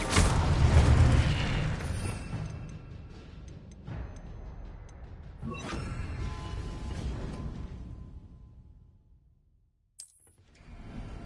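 A fiery Incendio spell cast in a Harry Potter video game erupts with a loud booming burst and rushing whoosh, then a second flaring surge that trails off into near silence before a sharp small pop.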